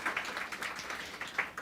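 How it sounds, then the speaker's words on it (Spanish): A church audience claps for Sergio and Lorena at a Sunday service, a brief, fairly faint patter of many hands with no voices over it. "Un fuerte aplauso para Sergio y Lorena, por favor."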